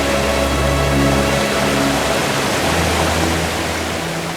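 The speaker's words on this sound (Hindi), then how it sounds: "तो झरना देख रहे हैं ना?" A waterfall pours in a steady, dense roar of broadband rushing water, loud and continuous throughout with no talking over it.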